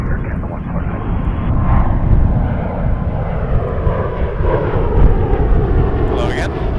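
Air Canada Airbus A321-211 engines rumble at Toronto Pearson as the airliner lines up on runway 23, a steady low roar swelling slightly over several seconds while a radio voice talks over it.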